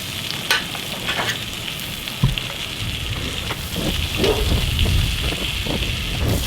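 Small pieces of sweetbreads frying in melted butter, giving a steady close crackling sizzle with a hissy wash and scattered pops, growing slightly fuller toward the end, without speech.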